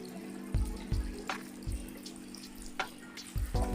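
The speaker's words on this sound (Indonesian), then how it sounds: "sekarang tangannya sudah bersih dan bisa kita bilas dengan air mengalir" Hands are rinsed under running tap water at a sink after soaping, a quiet splashing flow broken by several soft wet thumps as the hands move in the stream.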